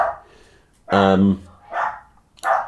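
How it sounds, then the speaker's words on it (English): A dog barks close by, one loud bark in the middle, with a quieter bark or whimper before it and another after, alongside short bursts of a person's voice. "The dog went mental"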